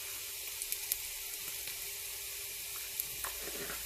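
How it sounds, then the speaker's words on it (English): Onions sizzle steadily in a frying pan with a pinch of whole cumin, a soft continuous crackle broken by a few small pops and spits. "whilst my onions are frying, I'm just putting a pinch of whole cumin"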